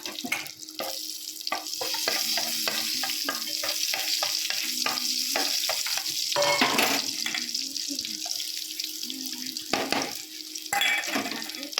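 Chilies fry in hot mustard oil with a constant close sizzle and bursts of crackling and spitting, and a louder hissing flare partway through, with no talking.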